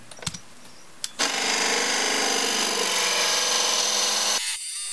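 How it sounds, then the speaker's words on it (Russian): A 40 mm drill bores a candle hole into a wooden candlestick blank clamped in a lathe chuck, a loud steady grinding whine starting abruptly after a couple of knocks, running about three seconds, then cutting off. "Сверлим отверстие для установки свечи сверлом с диаметром 40 мм."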